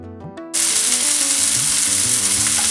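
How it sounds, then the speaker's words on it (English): A fish fillet fries in a pan over medium heat, a loud steady sizzle that bursts in after a brief quieter start and then crackles on evenly. "Cook this on medium heat for about a"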